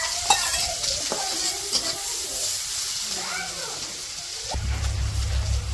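Onion and green chili frying in oil in a wok, a steady loud sizzle with stirring scrapes and clatters, and the hiss surging near the end as the pan is worked.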